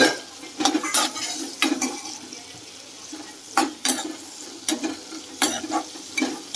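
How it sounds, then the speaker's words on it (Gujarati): Long-sliced onions sautéing in hot oil with asafoetida, a continuous sizzle broken by repeated sharp scrapes and clinks of a spatula against the pan, close and fairly loud, no voices. "આપણે આ કાંદાને થોડીક વાર સાતળવા દઈશું"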